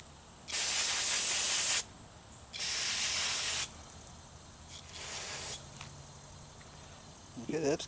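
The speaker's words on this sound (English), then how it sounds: "So I'm going to clean this right here off, spray it, clean it off good." Carburetor cleaner sprayed onto a carburetor in three bursts: two long, loud hissing blasts and then a shorter, softer one, each separated by quiet gaps.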